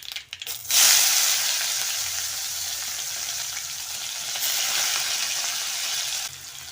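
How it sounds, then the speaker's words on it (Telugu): Sliced onions hitting hot oil that already holds mustard seeds, cumin and curry leaves, with a sudden loud sizzle that burst up and then holds steady as a close hiss, with no talking. "పచ్చిమిర్చి ఇలుకలు కూడా వేసి ఉల్లిపాయలు మంచి కలర్ వచ్చే వరకు ఫ్రై చేయాలి"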